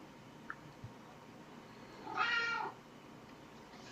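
A domestic cat gives one drawn-out meow near the middle, fairly faint against quiet room tone, with a couple of small knocks around it.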